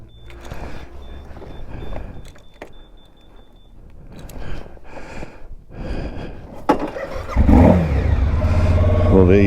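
A motorcycle engine cranks and fires, then catches and revs, building from sputtering turns to a loud, steady running roar near the end, with a voice speaking over the earlier part.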